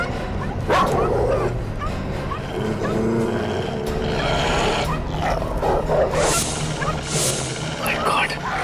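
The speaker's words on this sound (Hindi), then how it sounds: "बहुत कुत्ते।" Several dogs bark, yip and whimper in a busy, agitated chorus, close and loud throughout, with bursts of yelping over a constant noisy background.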